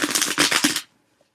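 A quick, close riffle of tarot cards shuffled in rapid bursts, cutting off abruptly into near silence.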